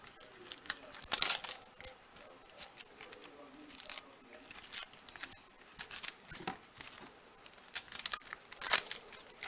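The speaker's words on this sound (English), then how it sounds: "you can just take off the outer skin like so. Peel it off with your fingernail" The dry outer skin of an organic onion crackles and crinkles as it is peeled off by fingernail, with quiet, irregular rustles and small snaps close by.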